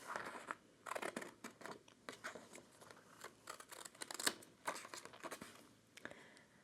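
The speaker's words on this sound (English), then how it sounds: "So using a pair of scissors, go ahead. First I'll just cut out the shape." Scissors snip out a shape from a transfer sheet for a flat resin tag, giving a close, quiet run of short crisp cuts and paper rustles in an irregular rhythm with no talking.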